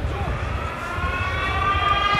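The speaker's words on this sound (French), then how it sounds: "La sirène retentit, c'est terminé." Stadium siren sounding to end the half at a rugby match, a sustained steady wailing tone over crowd noise and commentary-like voices.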